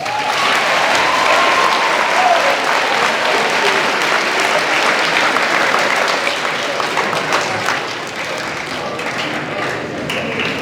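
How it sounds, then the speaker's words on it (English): A crowd at a school Kindness Day assembly applauds loudly and continuously, dense clapping that holds steady then tapers slightly toward the end. "Let's give everybody a round of applause."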